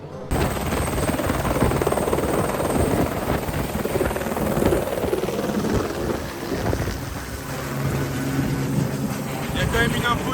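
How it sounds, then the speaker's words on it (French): A helicopter flies over a rally stage, its rotor rumble and whine steady and fairly loud throughout, mixed with background noise. "Pipou, il y a l'hélicoptère."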